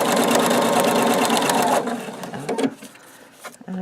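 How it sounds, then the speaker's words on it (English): A sewing machine stitching a quilt seam with the needle-down function, a loud rapid mechanical whir that runs steadily then stops, leaving a few softer clicks and handling sounds. "I'm going to sew all the way to the end."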